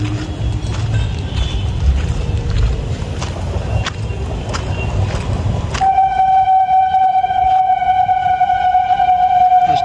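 A train passes near a station in a park, loud and continuous with rhythmic rumbling and clacks, then a long sustained horn blast sounds for the last few seconds.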